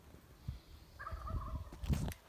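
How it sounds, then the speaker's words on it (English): A turkey gobbles once in the distance, a short warbling call rising over outdoor rustling and footsteps. "Did I just hear a turkey?"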